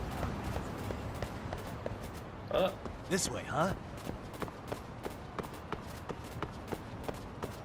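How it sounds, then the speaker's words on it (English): A dog's footsteps in the video game Lost Judgment sound as a steady series of sharp, evenly spaced clip-clop taps, close and distinct, with someone speaking briefly over them. "Why do his footsteps sound like that?"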